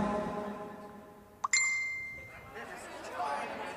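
A phone messenger notification tone plays once mid-clip, a sharp bright ding with a ringing tail that fades over a couple of seconds, set against a quiet room with faint crowd murmur.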